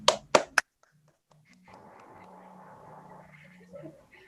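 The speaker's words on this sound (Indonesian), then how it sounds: "Tepuk tangan dulu untuk teman kita Minhat." Three sharp, loud hand claps ring out in quick succession for a classmate in a school counseling group session, then give way to a faint murmur of room noise.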